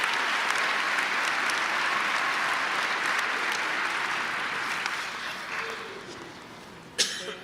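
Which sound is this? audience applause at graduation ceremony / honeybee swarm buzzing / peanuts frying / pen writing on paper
audience applause at graduation ceremony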